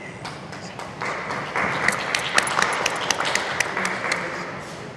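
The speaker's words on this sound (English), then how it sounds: "And please give our panelists a warm round of applause." Audience applause for panelists at the close of a panel discussion on human rights collaboration, a moderate wash of clapping that swells after the first second with scattered sharper individual claps standing out.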